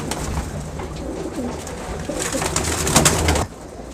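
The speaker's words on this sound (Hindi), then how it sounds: "ये जेठिया कबूतर है, ये जौनसरे, ये बाजी मेकर होते हैं भाई" Jethiya, Jaunsari and other fancy pigeons coo in a loft, soft repeated throaty calls layered over a dense flutter of nearby activity that swells toward the end before cutting off.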